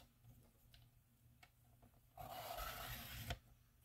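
A paper trimmer blade slices through a sheet of 8.5 x 11 paper in one brief, close rasping stroke lasting about a second, with quiet handling noises before it.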